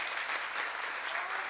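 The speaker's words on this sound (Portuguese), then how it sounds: "Uma salva de palmas para o Dudu." A church congregation applauds together in a steady, dense wash of clapping that stays level and fairly quiet throughout, with no voices standing out.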